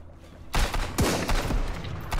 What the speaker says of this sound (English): I wasn't expecting that explosion